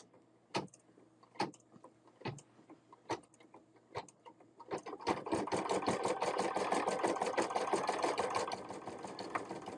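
Sewing machine running a zigzag satin stitch over fabric appliqué for a key fob, starting with a few separate clicks and short bursts, then a steady close mechanical whirring hum for several seconds, with no talking.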